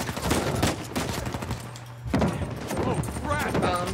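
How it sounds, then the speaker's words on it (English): Enemy gunfire in Uncharted 4 rattles in dense, overlapping bursts close to the player, under and between talk, with a short lull near the middle before the shooting picks up again. "I just don't know when people are shooting me"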